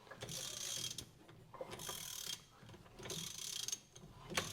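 Rusty engine of an abandoned 1976 Cushman Truckster being turned over by hand after a soak in penetrating oil, giving repeated scraping, ratcheting mechanical strokes in bursts, close and moderately loud with no talking.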